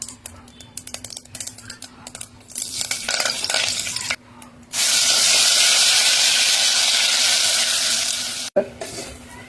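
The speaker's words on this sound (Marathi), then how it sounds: "घरचं पावडर लाल चटणी तेलात परतून घ्यायचं" Vegetables, curry leaves, ginger, tomato, garlic and homemade red chilli powder cooking in hot oil for a Bhogi bhaji. Scraping and stirring come first, then a loud, steady close-up sizzle that runs for several seconds before cutting off briefly near the end.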